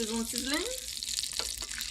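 A steady hissing sizzle from a frying pan cooking breakfast runs throughout, with someone speaking briefly over it at the start.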